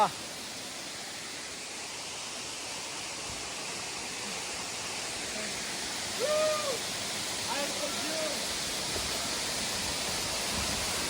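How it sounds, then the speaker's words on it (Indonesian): Constant rushing roar of a waterfall at a trail post on Mount Massimpolongnge, Soppeng, fills the scene, with a few faint voices briefly audible partway through. "Mantap guys, air terjun"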